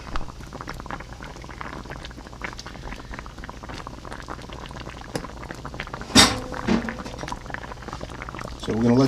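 Chicken marsala sauce simmers in a small pan, giving a steady bubbling hiss with a brief clatter partway through.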